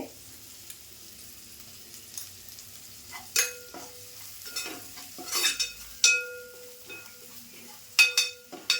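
Coriander and turmeric go into hot oil as the tempering for a Malvani-style village crab curry, giving a soft steady sizzle with sharp stirring clinks and scrapes. The sounds are close and intermittent, with no talk.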